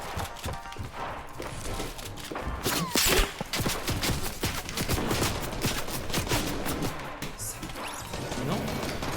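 Video game gunfire sounds as a loud, busy stretch of rapid shots and impacts, with sharp cracks scattered through the clip, some heavier hits near the three-second mark, and a voice faintly under it.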